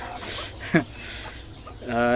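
A free-range village hen gives a short, sharp cluck in the middle, fairly near, over a quiet farmyard background, with a few softer clucks before and after.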